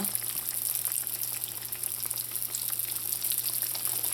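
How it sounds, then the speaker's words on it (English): Smoked herring fish pies fry in hot oil over medium to low heat, giving a steady, dense sizzle and crackle that runs evenly from start to finish, close and moderately loud, with no talking. "you're going to move ahead onto frying them on medium, low, or low heat"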